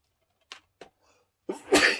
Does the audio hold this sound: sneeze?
yes